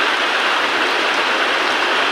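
Steady, dense hiss of heavy rain pouring down, continuous and loud with no pauses or voices.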